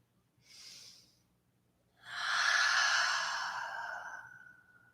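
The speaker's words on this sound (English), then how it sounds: "Take one more long breath with me." Long, slow breaths during a yoga flow: a short exhale first, then a longer, louder breath that fades gradually, heard close up with no talking.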